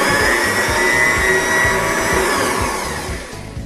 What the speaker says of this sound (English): I'm going to turn the mixer on.